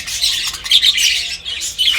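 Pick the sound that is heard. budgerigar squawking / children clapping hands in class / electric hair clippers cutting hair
budgerigar squawking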